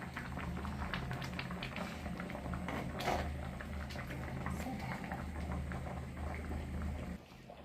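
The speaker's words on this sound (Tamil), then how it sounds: "கொதிக்குது, மணமும் வருது" Ground-spice kuzhambu curry bubbling steadily in a pot, a continuous close simmering hiss and burble with a faint clink near the end.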